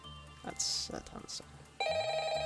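A telephone rings in the Five Nights at Freddy's video game. A steady, loud electronic ring starts partway through and carries to the end, after a stretch of talk and game noise.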